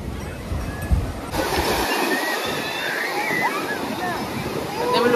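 Sea waves wash onto Puri beach in a steady, rushing surf, with the sloshing roar continuous and fairly close while people's voices mix in the background.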